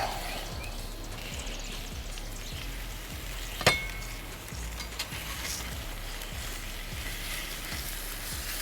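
Apple-glazed chicken sizzles in a cast iron pan, a steady low frying hiss running throughout with one sharp metallic clink partway through and a few soft clatters.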